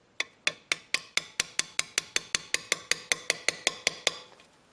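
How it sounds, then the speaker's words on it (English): Light hammer taps drive a bolt into a Honda GX200 small engine during governor work, a steady run of about eighteen sharp metallic strikes evenly spaced and close up, each ringing briefly, with no talk. "and just hammer it in there."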